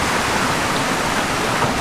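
Water at the Situ Cibulakan spring pond rushes in a steady, close, loud wash of noise, much like a small waterfall or stream, with no voices.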